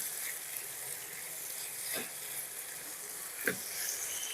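Vegetarian bottle gourd stalk stir-fry, sweetened with sugar, sizzles steadily in a pan while a spatula scrapes through it twice, each stroke a short, clear swish against the frying hiss.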